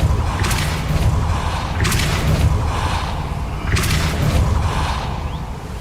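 The Depulso spell goes off in Hogwarts Legacy with a loud whooshing burst of force. Booming impacts repeat at about two-second intervals over a continuous rumbling backdrop.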